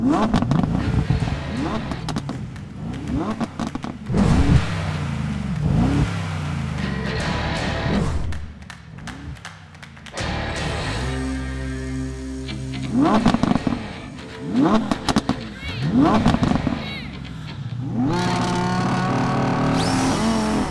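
Car engines, including an Audi R8, rev and roar through repeated gear shifts in a drag race, loud and close, with a voice talking over the racing noise throughout.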